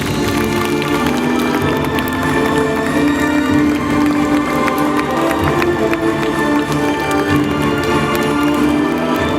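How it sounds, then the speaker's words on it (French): Applause and cheering from an audience welcoming the Snow Queen at a magicians' tournament event, a steady dense roar of clapping and crowd noise filling the whole stretch without a pause. "On applaudit bien fort la Reine des Neiges."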